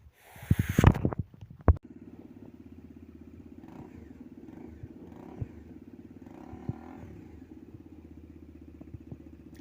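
After a few loud clatters, a motorcycle engine idles with a steady, deep, throbbing exhaust rumble and occasional small revs.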